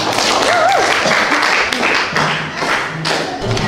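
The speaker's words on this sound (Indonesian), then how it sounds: "Terima kasih tepuk tangan buat siswa." Students in a civics classroom break into applause, a dense burst of close hand claps and thumps mixed with chatter and shouting voices that carries on throughout.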